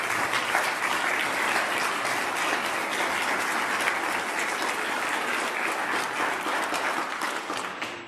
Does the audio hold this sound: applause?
yes